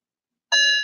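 A single electronic beep from a toy prompting a recording, a short bright tone with stacked harmonics lasting about a third of a second after silence.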